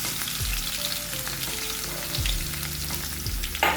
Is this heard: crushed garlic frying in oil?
yes